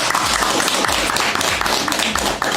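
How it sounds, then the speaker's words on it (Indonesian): An audience applauding at a military cadet event, with dense, steady clapping from many hands filling the whole stretch, loud and close, with no one speaking over it. "tepuk tangan semua"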